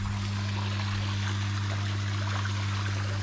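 Water trickles and splashes steadily through a garden pond cascade driven by a pump after heavy rain, a continuous close wash of sound with a low steady hum beneath it.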